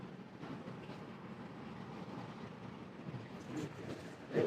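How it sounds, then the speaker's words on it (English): A freight train with four lead engines pulls out of Rose Yard in Altoona, a low rumbling rail sound heard from a distance, fairly quiet and steady, with a louder bump near the end. "We already got our first moving train."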